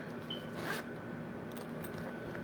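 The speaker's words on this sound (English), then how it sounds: "that zipper got stuck" A Louis Vuitton bag's zipper is tugged and catches, giving a short quiet rasp near the start and faint scraping after, close by and without talk.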